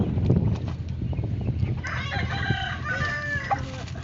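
Backyard chickens: hens cluck steadily while a rooster crows loudly in the second half, with low rumbling background noise throughout.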